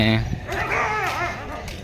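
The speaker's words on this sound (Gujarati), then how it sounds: "અને કૂતરા છે" A dog barks a few times close by while people talk over it.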